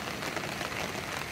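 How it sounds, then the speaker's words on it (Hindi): Heavy rain falling in Tirthan Valley in the Himalayan hills, a dense, even hiss of drops striking surfaces, fairly faint and continuous with no voices. "देखेंगे मस्त बारिश हो रहा है यहाँ पे"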